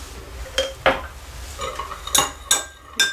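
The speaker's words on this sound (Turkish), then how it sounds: "Karıştıralım." A utensil scrapes and clinks against a container while stirring a melted face-cleansing balm mixture scented with aloe vera essence, giving irregular close knocks and chimes with scraping in between.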